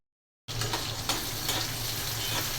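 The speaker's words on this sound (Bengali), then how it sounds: "তেল দিয়ে দিচ্ছি পেঁয়াজ কুচি।" Chopped onion hits hot oil after a moment of silence and keeps up a steady, moderate sizzle with faint clinks now and then and no voices.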